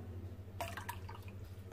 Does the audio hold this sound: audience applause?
no